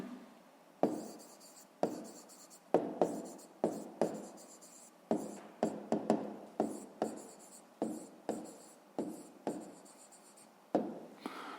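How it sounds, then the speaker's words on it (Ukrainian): Pen strokes on paper while a maths answer is written down in a fifth-grade lesson: quick, close scratching bursts in an uneven rhythm with brief pauses between words and numbers, no speech. "Записуємо відповідь."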